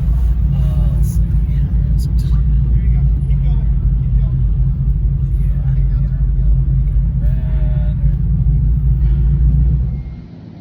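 Artificial drag-mode rumble from a Dodge Charger EV at the 2025 New York Auto Show, a loud, steady low drone that holds for about ten seconds before fading, with faint voices and crowd noise over it.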